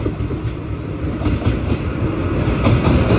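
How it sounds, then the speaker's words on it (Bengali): Passenger train number 22397 rolling into a station, a loud steady rumble of railcars with rhythmic wheel clatter building toward the end. "এই যে ট্রেন কিন্তু আমাদের এখন ঢুকে গেল।"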